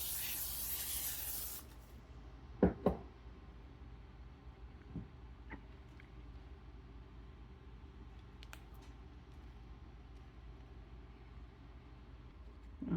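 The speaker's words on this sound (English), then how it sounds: "I'm going to spray the parchment paper" Cooking spray hissing onto parchment paper lining a baking pan for brownies, one loud close burst at the start, then a quiet room with small clicks and handling noises.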